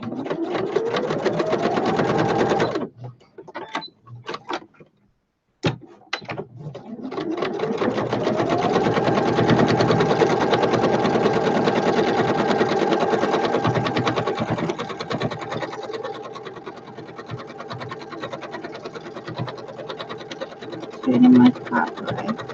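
A sewing machine stitches together fabric scraps with a steady, loud whirring run, stops briefly near the start, then resumes for a long stretch and slows toward the end.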